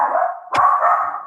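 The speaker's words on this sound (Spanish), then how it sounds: "Perdón porque mi perrito está por ahí." A small pet dog gives a single sharp bark indoors, close and loud, amid a steady background hum.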